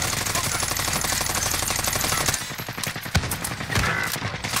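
Rapid automatic gunfire in Call of Duty: Modern Warfare, a dense, loud rattle of close shots that thins into scattered bursts and single reports.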